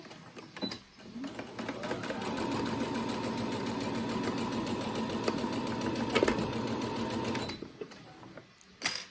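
A sewing machine stitches a fabric face mask with elastic, running in a steady, close, rapid mechanical whirr for several seconds, with a few clicks and handling sounds before and after.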